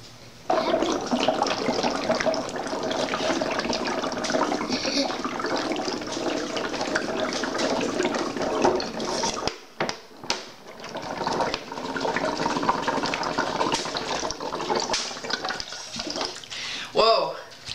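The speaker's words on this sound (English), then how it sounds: "So I blew all the air from my lungs into the bottle" Air is blown through a tube into a water-filled bottle for a homemade spirometer lung capacity experiment, making a continuous loud bubbling gurgle. The bubbling runs for several seconds, breaks off briefly, then resumes, with some voices mixed in.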